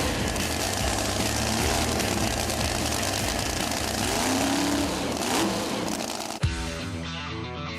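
A custom-built hot rod car engine revs loudly at a car show, rising and falling in a rough, throaty roar before cutting off abruptly near the end.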